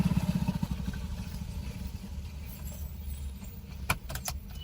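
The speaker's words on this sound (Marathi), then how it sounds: "आधी सीट बेल्ट लावणार" A car seat belt being pulled across and buckled inside a stationary car at a driving school, heard as soft sliding and a few sharp metallic clicks near the end, close and alone with a low cabin rumble.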